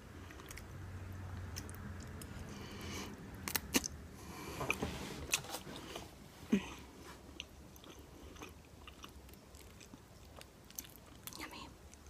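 Close, soft chewing and biting of baked ziti pasta in a quiet whispered eating session, with irregular moist crunches and mouth sounds over a low steady background.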